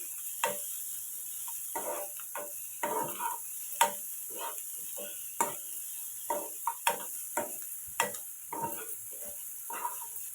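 Dried meat fries on a low flame in a pan, with a faint steady sizzle under repeated light scraping and tapping from a stirring utensil at an uneven pace, close and quiet.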